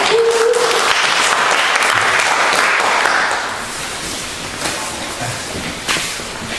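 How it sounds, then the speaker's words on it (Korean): Audience applause at a labor activists' and honorary industrial safety retreat, loud and dense clapping from a crowd that fades to a lighter, thinning patter halfway through. "박수 한번 쳐주세요."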